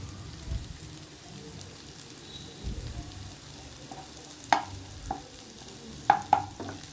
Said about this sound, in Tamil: கொஞ்சம் எண்ணெயிலே இப்படி பரட்டு. அது வெங்காயத்தோடு சேர்ந்து அதுவும் கொஞ்சம் ஃப்ரை ஆகிடும்.